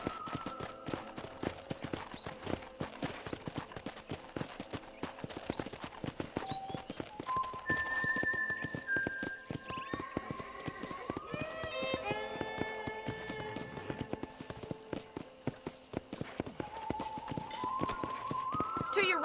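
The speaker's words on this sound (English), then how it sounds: "let's see if you can still ride a horse" Horse hooves clip-clop at a steady gallop in the Western video game Red Dead Redemption, a continuous rhythmic patter running the whole time beneath game music with melodic lines and voices.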